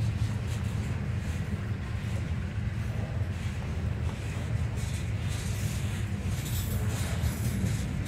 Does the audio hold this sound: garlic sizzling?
no